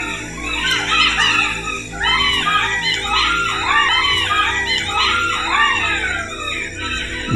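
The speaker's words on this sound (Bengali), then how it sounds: "এর মধ্যে আবার শুরু হয়েছে শিয়ালের ডাক।" Jackals howl together at night in a dense chorus of wavering, yelping wails, loud and sustained over a low steady background hum.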